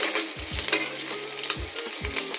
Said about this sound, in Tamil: இப்போ இந்த எண்ணெயிலேயே நல்லா வதங்கட்டும்.